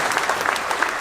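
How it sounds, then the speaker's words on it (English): An audience claps steadily for about a second, a dense, even patter of many hands at a moderate level with no voices over it. "you can clap. You can clap for that"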